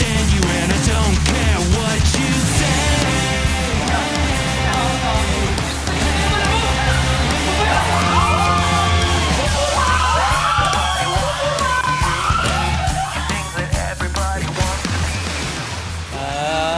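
A crowd of riders screams and yells on a tornado water slide at a water park, loud, dense and continuous, with overlapping shrieks and whoops rising and falling over a steady roar.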